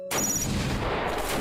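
A single loud sniper rifle shot in the video game Beyond Citadel. It has a sharp onset, then a long dense rumbling tail that fills the rest of the moment, with a faint high electronic tone at the start.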